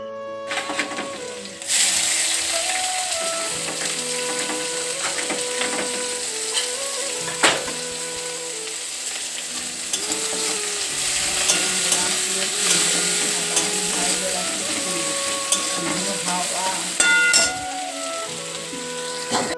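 Leafy greens fry with garlic in oil, a steady close sizzle that starts abruptly and runs throughout, broken by a few sharp clinks of a utensil.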